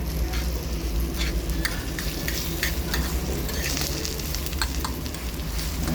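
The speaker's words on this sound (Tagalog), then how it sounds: "Lutuin ang egg. Ihalong mabuti." Egg sizzles loudly in a hot pan while being stirred, the steady frying hiss punctuated by repeated scraping and tapping strokes of a utensil, close and continuous with no talking.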